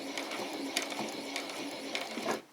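A sewing machine stitching down fabric on a butterfly and bee costume, giving a faint, quick mechanical whir with light ticks in the background.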